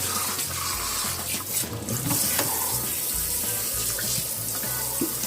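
Tap water runs steadily into a sink while a raw turkey's cavity is rinsed out, a continuous splashing rush with no speech over it.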